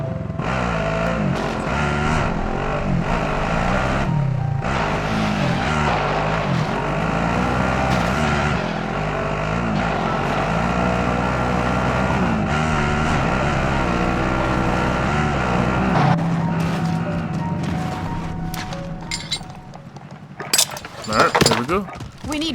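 A vehicle engine drones steadily in Call of Duty Warzone gameplay, loud and continuous for most of the stretch before cutting out near the end, with voices talking over it and some clattering at the close.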